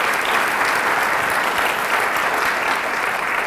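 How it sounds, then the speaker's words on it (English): Loud, dense applause from a ceremony audience honoring the mayor at a school event, steady and sustained throughout without a break. "How about another round of applause for our amazing mayor?"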